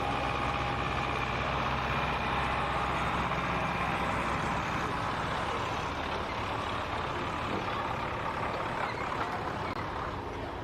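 A pulling truck's engine at a county fair truck pull, competing in the 2.6 class. The engine drones loud and steady for the whole stretch, a thick continuous rumble with a slight fade toward the end and no talk.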